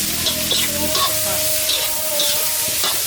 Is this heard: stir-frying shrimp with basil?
yes